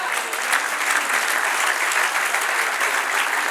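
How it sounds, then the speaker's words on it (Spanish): Church congregation applauding, a loud, continuous roar of many hands clapping filling the space without pause. "Dale un aplauso, Señor."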